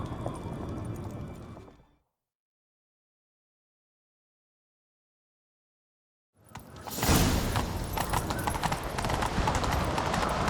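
Horses gallop in a fantasy video game scene, rapid hoofbeats and clip-clop rhythm heard loud and close, broken by several seconds of total silence before the galloping resumes louder.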